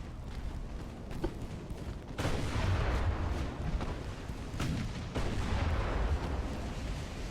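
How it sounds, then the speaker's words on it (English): Ammunition detonates aboard a warship during a naval battle at Coronel in Ultimate Admiral: Dreadnoughts: two heavy booms erupt a few seconds apart, each with a deep rolling rumble that lingers over a constant background of distant gunfire. "Ammo detonation."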